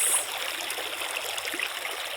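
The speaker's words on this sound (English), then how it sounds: "The water leaping up, spraying." Water at a natural hot spring in California bubbles and sprays in a steady, hissing rush of splashing with small gurgles, close and continuous, no talking.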